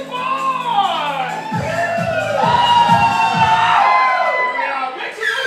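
A theatresports show audience cheers, whoops and shouts loudly and continuously, with a host's voice rising over the crowd.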